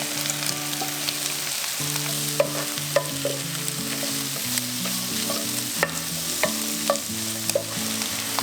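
Tomatoes and green onions stir-frying in a pan for shrimp Thai basil fried rice, a steady sizzle with scattered utensil scrapes and taps, while faint background music plays underneath.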